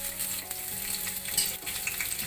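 Garlic frying in olive oil in a kadai, a steady close crackling sizzle with faint stirring scrapes and no talk.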